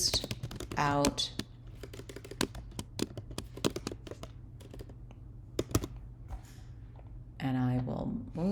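A computer keyboard is typed on to write a note, irregular close clicks and key taps running throughout, with brief stretches of someone speaking at the start and end.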